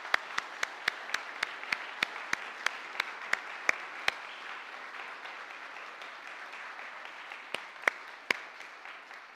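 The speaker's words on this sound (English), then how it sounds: "So give everybody a big round of applause." A church congregation applauding at a Presbyterian Sunday service, a steady wash of clapping with a few sharp, close individual claps standing out, lasting several seconds and fading slightly toward the end.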